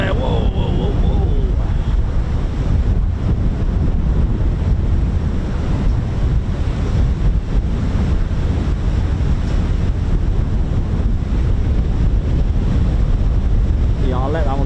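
Strong gusts of wind blast straight into the microphone beside the sea at an air base, a loud, continuous low rumble and buffeting roar that swamps everything else throughout.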